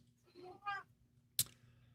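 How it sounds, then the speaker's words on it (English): A cat meows from behind a door, one muffled, faint cry followed by a sharp click or thump, in a quiet room with a low hum. "somebody's meowing under the door."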